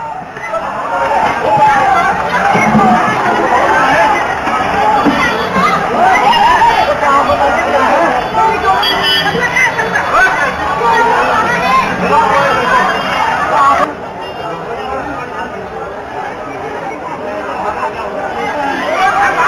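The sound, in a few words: crowd of people at a metro station after a blast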